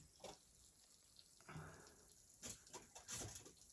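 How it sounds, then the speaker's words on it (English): Water drips and spits from a valve deep inside an abandoned mine tunnel, a few faint irregular splashes and hisses against near-silence. "I think it's water dripping."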